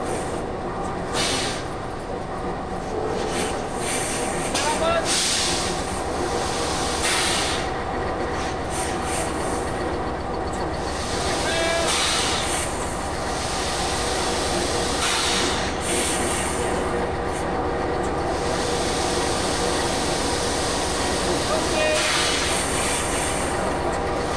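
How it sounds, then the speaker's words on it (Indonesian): CC206 locomotive being coupled to passenger wagons at night, with a continuous loud rumble of rail cars, squealing wheels and scattered metallic clanks throughout, no talk. "proses penyambungan ini, di sini memerlukan koordinasi dan kerjasama yang akurat serta presisi agar terjadinya penyambungan lokomotif ke gerbong dengan sempurna."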